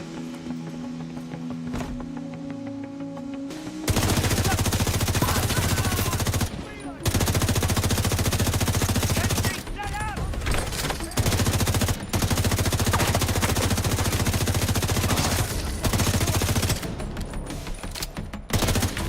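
Sustained automatic gunfire from The Division in Brooklyn, loud and close, in long rapid bursts broken by brief pauses, with occasional footsteps and some game noise in between.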